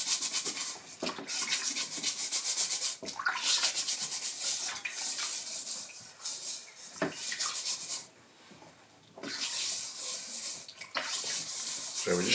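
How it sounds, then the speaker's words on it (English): Squash skins being scrubbed clean under running water make a continuous, close rasping rub, broken by a few brief pauses and shifts in rhythm, with the water hissing steadily beneath. "So the first thing we've got to do is actually to scrub the squash to get them clean."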